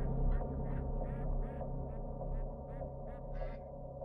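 Ducks being fed grain quack repeatedly in a steady, rhythmic series of nasal calls over a constant low background hum, with no talking.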